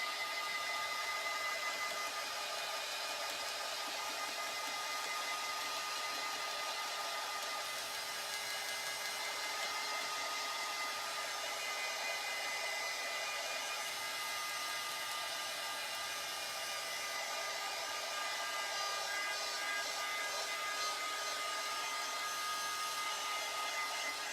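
A hair dryer blows steadily on a fresh chalk drawing, a continuous airy whoosh with a high motor whine that stays constant and fairly loud for the whole stretch.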